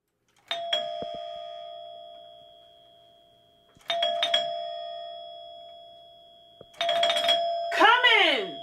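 A doorbell chimes three times, each ring sharp and ringing out before fading, with a voice talking over the last one.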